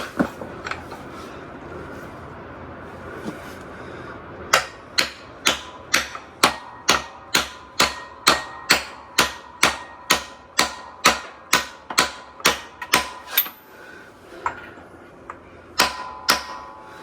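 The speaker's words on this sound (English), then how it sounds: "let me get a socket to fix that nicely." A socket wrench ratchets on an engine part during prep for an LS swap in a '61 Comet, sounding as a run of sharp, evenly spaced clicks in quick succession, close and loud, with a short pause before a last pair.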